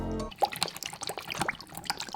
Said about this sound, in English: I'm going to gracefully pour in the soy sauce.